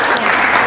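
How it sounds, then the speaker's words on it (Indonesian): Classroom applause for group 1, a brief loud burst of many students clapping close by, with voices mixed in. "Oke, beri tepuk tangan untuk kelompok 1 ya."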